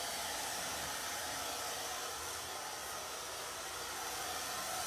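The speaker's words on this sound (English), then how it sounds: "All right, I'm gonna hit this with my blow dryer real quick." A handheld blow dryer drying wet green paint on a painted Christmas yard sign, blowing as a loud, continuous airy whoosh with no break.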